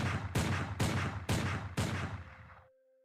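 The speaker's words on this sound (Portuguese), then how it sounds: "Foi nesse momento que 6 tiros foram ouvidos." Five loud, close gunshots crack out in an even rhythm, each a sharp broadband blast with a rumbling tail, followed by a faint lingering tone after the last shot.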